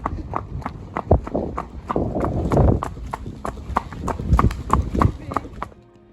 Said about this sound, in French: les chevaux ont bien trottiné